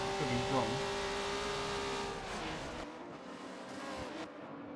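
Race cars at a drag racing event, including a V6 twin-turbo Nissan 300ZX, with a loud engine whine and a revving tone that fades as the car pulls away, leaving a quieter background rumble.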